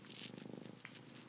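A domestic cat purring up close, a continuous rhythmic rumble with a few faint higher noises over it, and no talking.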